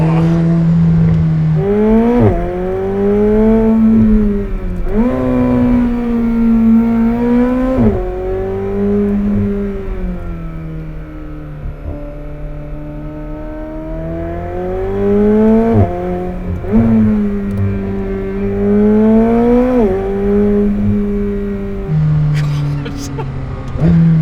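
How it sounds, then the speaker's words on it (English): A McLaren mini Formula One car drives with its engine note rising and falling in pitch through repeated acceleration and braking cycles. The sound is loud and continuous, and some voice may mix in beneath it. "Driving a mini Formula One car."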